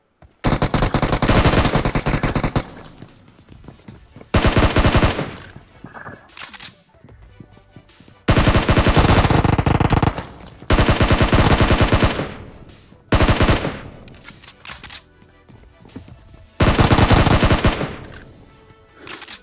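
Automatic gunfire in the mobile game PUBG Mobile, loud bursts of rapid shots lasting a second or two each, separated by brief pauses, repeated throughout.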